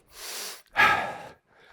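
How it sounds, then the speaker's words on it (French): Heavy rhythmic breathing during a full-body HIIT workout held in a high plank with trunk rotations: a long close exhale, a brief pause, then a sharper forceful breath, followed by the start of another. "Écoutez bien le rythme de ma respiration."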